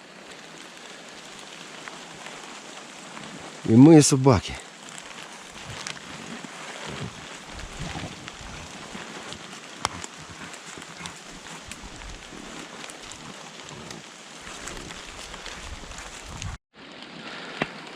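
Steady rain falls in the Carpathian mountains with a soft, continuous hiss and patter; a short voice and a brief yelp break in near the start.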